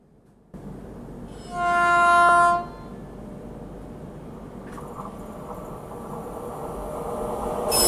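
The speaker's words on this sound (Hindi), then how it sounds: "अभी जो ट्रेन हमें ओवरटेक कर गई वो थी हावड़ा पौंडीचेरी सुपरफास्ट एक्सप्रेस" A Howrah Puducherry Superfast Express train overtakes on an Indian railway line, with a low, steady rumble of running wheels and a loud, sustained horn blast partway through, then continued rolling noise that grows toward the end.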